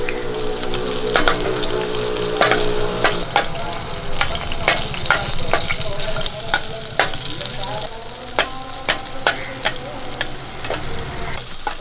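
Dried red chillies and tamarind fry in hot oil for a pappadam chutney: a loud, continuous sizzle with crackling pops and scraping stirring sounds throughout.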